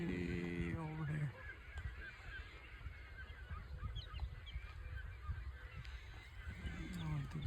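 Geese honk loudly at a lake campground, a burst of harsh squawks at the start and again near the end, with softer scattered calls from many birds across the water in between.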